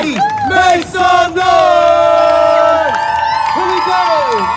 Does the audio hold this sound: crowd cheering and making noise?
yes